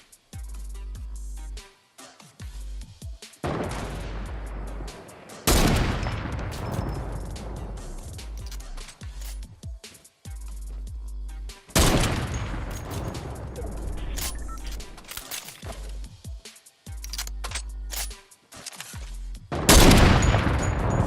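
Loud gunshots in Fortnite Battle Royale sniper mode: heavy, echoing cracks in spaced bursts, each ringing out and decaying before the next, with short quiet gaps between volleys.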